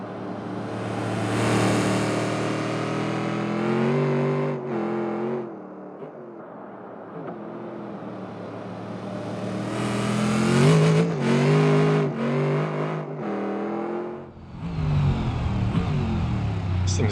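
A truck engine in BeamNG.drive revs hard and sustains a loud, harmonic drone that climbs and falls with gear changes, dips briefly, then roars back up again.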